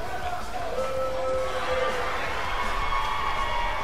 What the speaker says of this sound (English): the crowd loves Paul Blaze